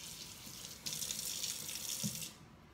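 Cold or lukewarm water runs from a tap onto a kitchen cloth held over a plastic bowl, a steady hissing stream that grows fuller midway, then cuts off, fairly quiet and with no talking.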